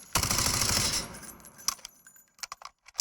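Gunfire from the shooter game Delta Force, fired during a drop shot: a rapid close burst of automatic fire for about a second, then a few sharp scattered shots and metallic clicks.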